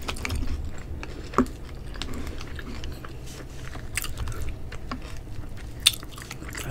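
Close-up biting and chewing of a Taco Bell Double Stacker taco, with a sharp crunchy bite followed by soft wet chewing and a second crisp crunch near the end.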